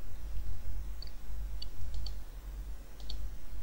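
Sharp computer mouse clicks, a handful of quick, light taps spread irregularly over a steady low hum, close and faint, with no talking.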